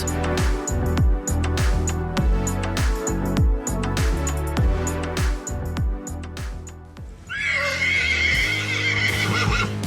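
A very large horse lets out a shrill, wavering whinny near the end, over a loud, steady rhythmic backdrop that fills the first part.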